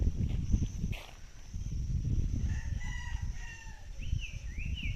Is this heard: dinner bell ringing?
no